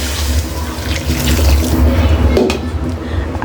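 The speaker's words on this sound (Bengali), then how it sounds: "এখন আমি গরম পানি অ্যাড করে দিলাম পরিমাণ মতো" Hot water poured into a pot of fried rice and chicken for biryani, a loud, continuous splashing gush close by for a few seconds.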